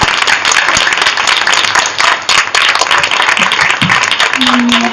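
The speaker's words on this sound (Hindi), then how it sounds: "आज दो तालियां बजाएं खुदा के जलाल के लिए।" A church congregation at a Hindi-language service claps for God's glory. The applause is steady and dense, with a short dip midway and a voice at the very end.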